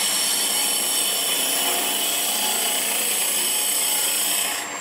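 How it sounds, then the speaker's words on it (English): A Hunter woodturning cutter rides the bevel on spinning wood on a lathe, giving a steady, close hiss of cutting that holds evenly for a few seconds before easing off. "I'm actually riding the bevel of the cutter on the wood"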